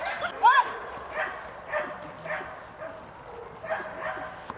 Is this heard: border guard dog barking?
yes